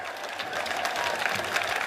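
A crowd applauds paratroopers landing at an outdoor parachute display, steady dense clapping that builds slightly and continues throughout, with no talk.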